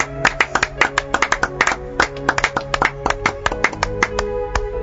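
A church congregation claps together in acclamation of the Lord during family prayer, sharp rhythmic hand claps repeating quickly and loudly with a steady beat, close and dominant.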